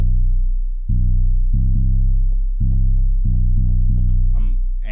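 Deep 808 bass in a trap beat made in FL Studio, tuned to its lowest pitch, booming in a repeating rhythm of sustained low hits over about five seconds, with a brief vocal sound near the end.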